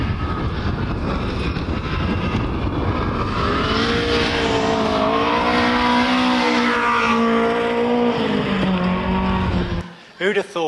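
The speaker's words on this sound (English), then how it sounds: "I just want you to listen to the engine because the engine's been rebuilt twice" A twice-rebuilt Hillman Avenger rally car engine revs loudly and roughly, its pitch rising and wavering for several seconds before cutting off abruptly.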